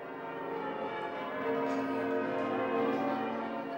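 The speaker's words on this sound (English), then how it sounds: "by ringing the bells" Steady, overlapping ringing of cathedral bells, a continuous resonant wash of tones that holds a fairly even loudness throughout, with no voices.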